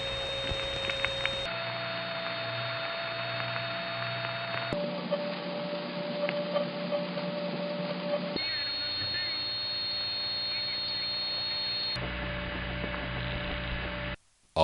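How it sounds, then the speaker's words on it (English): Howl from a 1970s telephone carrier system trunk line, a steady tone near 500-700 Hz that shifts pitch at abrupt cuts over mains hum and static, sometimes with more than one howl tone at once, continuous and fairly loud throughout. "The carrier systems in this family have a strong tendency to howl at a certain frequency range, usually between 500 and 700 hertz."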